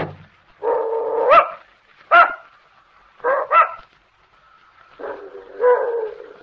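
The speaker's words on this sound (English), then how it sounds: "I don't believe your dog likes me, Mrs. Gillis." A dog barks and whimpers in short separated bursts, close and fairly loud, with quiet pauses between the calls.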